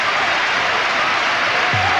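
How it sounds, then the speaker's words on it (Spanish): A stadium crowd at a 1995-96 Spanish league football match between Atletico Madrid and Albacete applauds a substituted player, a loud continuous roar of clapping and crowd noise that holds steady throughout, with a brief low tone near the end. "Aplausos también para Lugo Pénez"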